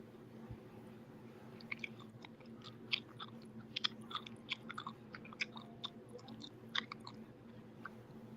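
Gum chewing close to the mouth, a string of small irregular wet clicks and smacks running for about eight seconds over a steady low hum in the background.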